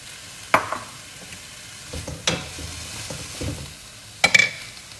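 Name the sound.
green curry ingredients frying in a wok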